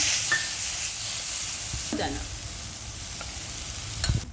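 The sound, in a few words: stirring grated potato, peanuts, chilli and cumin frying in oil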